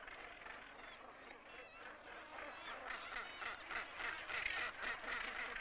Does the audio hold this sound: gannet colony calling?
yes